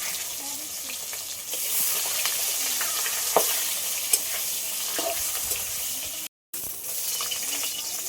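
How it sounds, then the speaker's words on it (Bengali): Steady, loud sizzle of singhi and magur catfish frying in hot oil, a continuous crackling hiss with occasional sharp pops and a brief dropout near the end. "এবার মাছ ভেজে নেব"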